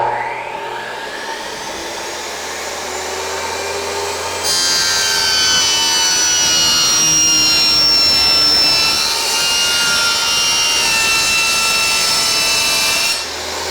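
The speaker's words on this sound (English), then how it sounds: "In a table saw, the blade is coming at you and it's always throwing debris on your face" A table saw cuts vinyl plank flooring in a loud, steady whine that rises sharply when the blade bites into the plank, then drops off abruptly at the end, with no voices.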